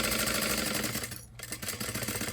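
A sewing machine stitches a half-inch seam on a small tote bag, a close, loud, rapid needle hum that dips briefly midway, then picks back up and runs on steadily.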